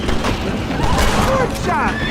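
A gunshot cracks in Red Dead Redemption over an ambient game soundscape, followed by whistling and a rising tonal sound while a voice is heard.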